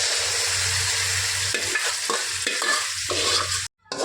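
Tomatoes and dal being stirred in a frying pan, a steady close sizzle with scraping spoon strokes through the middle, ending in a brief cut to silence.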